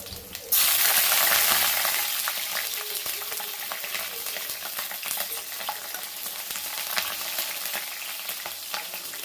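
Cumin, mustard seeds, dried red chillies, crushed garlic and green chillies drop into hot oil for moringa rice, bursting into a loud sudden sizzle that settles into steady close frying with scattered pops and crackles.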